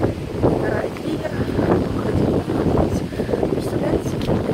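Strong wind gusting outdoors near the sea, a steady loud rumbling buffet across the microphone throughout, with someone speaking underneath.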